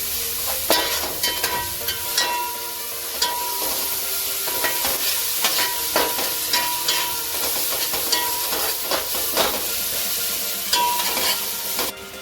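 A coarsely ground spice paste is sautéed in a pan for a dhaba-style methi malai paneer, with a constant close sizzle broken by repeated sharp clinks and scrapes of a spoon stirring at an irregular pace, and no voices.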